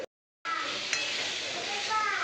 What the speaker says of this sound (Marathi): आता मी याच्यामध्ये बटाटे टाकून देते.